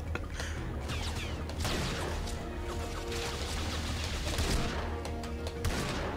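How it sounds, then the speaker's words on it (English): Rocket hits land in the video game James Bond 007: Everything or Nothing, a dense run of loud explosive crashes and bangs, fired in quick bursts over continuous gunfire with no pause. "I'm still getting hit by rockets somehow"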